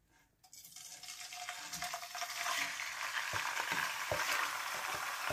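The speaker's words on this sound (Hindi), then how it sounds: "अब हम सबसे पहले ये चिकन को इसमें डालेंगे और इसको 1 मिनट के लिए फ्राई करेंगे।" Boneless chicken for a samosa stuffing drops into hot oil in a kadai: after a brief quiet moment a sizzle bursts up and holds strong, with occasional knocks from stirring.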